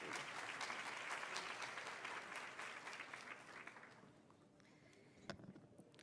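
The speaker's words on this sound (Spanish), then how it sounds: "Recibimos con un fuerte aplauso a la doctora Elisa Araya." An audience at a conference on integration in the Dominican Republic applauds to welcome a speaker, dense clapping at first that thins and fades toward the end, with a few isolated claps and faint sounds near the close.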